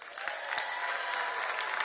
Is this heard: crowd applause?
yes